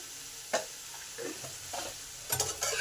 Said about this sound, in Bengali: নুন আর হলুদটাকে দিয়ে কুমড়োয় ভালো করে মিশিয়ে দিলাম।